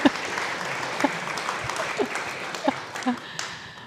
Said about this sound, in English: You can clap for Dave.